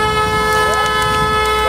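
A car horn honks in one long, loud, steady blast outdoors at a protest where a car is set on fire, with faint crowd noise beneath it.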